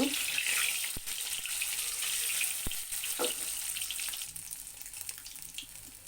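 Three eggs sizzle in oil in a pan, a steady hissing fry with a few sharp pops and crackles that settles and grows a little quieter toward the end.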